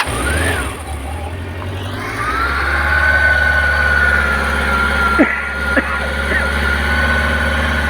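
A 1997 Honda CB750 motorcycle engine idles steadily up close, a loud, continuous low rumble with a faint whine above it. The tone shifts slightly a couple of times, with small clicks near the end.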